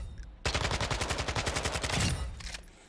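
Kastov 74u assault rifle in Modern Warfare 2 fires one loud sustained burst of rapid, evenly spaced shots lasting about two seconds, then stops.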